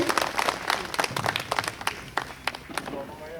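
An audience applauds a welcome at an event, scattered and fairly faint clapping with crisp individual claps, mixed with a speaking voice.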